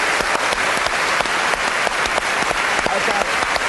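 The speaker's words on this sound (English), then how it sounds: "Give them a round of applause, folks." Audience applause for presenters at a live Halloween ghost-hunting show, a dense continuous burst of clapping from a crowd, loud and close, with no talking over it.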